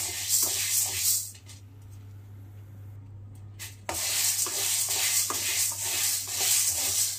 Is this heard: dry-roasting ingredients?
yes